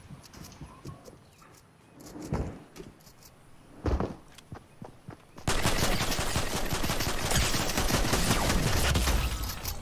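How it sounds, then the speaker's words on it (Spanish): Gunfire in the Fortnite video game: a few sharp shots and bursts early on, then a sustained, loud stretch of dense rapid fire and clatter filling the rest. "Te estaba disparando, te estaba spameando todo el rato"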